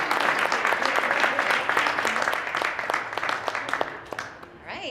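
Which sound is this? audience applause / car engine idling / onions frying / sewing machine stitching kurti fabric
audience applause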